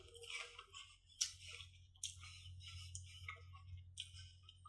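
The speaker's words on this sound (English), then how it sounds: "I can tell that this is going to crack apart as I bite" Someone bites into a crisp Cosmic Crisp apple and chews, giving a series of close, sharp crunches and snaps spaced irregularly over a quiet low hum.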